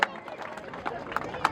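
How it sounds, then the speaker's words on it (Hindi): Applause from an audience greeting a chief guest at an annual function of a defence academy in Jaipur, a brief patter of clapping blended with crowd murmur and a few louder claps. "जोरदार तालियों के साथ स्वागत है उनका"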